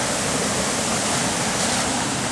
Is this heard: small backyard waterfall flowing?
yes